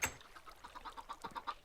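Video game chickens on an egg farm cluck softly in a quick, regular run of short clucks, faint and alone with no voices over them.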